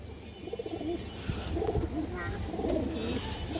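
A lively high-flyer pigeon coos in repeated soft rolling phrases at close range, with faint flutters and background noise around it.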